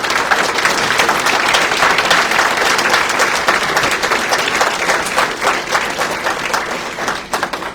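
An audience at a military graduation ceremony applauds standing staff, instructors and support staff, with dense, sustained clapping that holds steady and then thins slightly toward the end.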